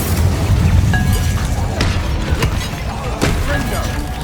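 Fire spell blasts from the video game Hogwarts Legacy, a run of sharp booming bursts over a dense, rumbling game soundscape with music and effects layered throughout.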